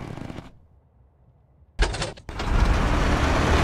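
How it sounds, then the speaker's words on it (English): The engine of a Piper Cub aircraft in a flight simulator is hand-propped with the throttle cracked. A brief sputter comes first, then a short silence, and it catches with a loud, rough, steady roar. "we're going to pull this prop down, we're going to pull it fast with a throttle cracked, and this should start the engine"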